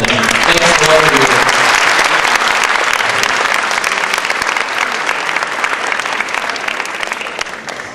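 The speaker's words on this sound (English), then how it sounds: "And now a big applause for everyone." Loud, sustained applause from the audience at an academic round-table discussion, dense clapping that starts strong and slowly thins toward the end.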